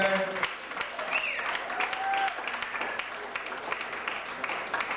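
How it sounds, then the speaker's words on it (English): Audience applause at a comedy club night, a dense steady wash of clapping filling the room for several seconds, with some voices and cheers mixed in. "Give a round of applause for Erica Roberts."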